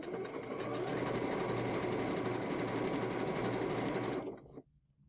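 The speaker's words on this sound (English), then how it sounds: "lower the presser foot, and then you start stitching" A sewing machine stitches steadily through quilting fabric, a close, even whirring hum with fast needle chatter that runs for about four seconds and then stops abruptly.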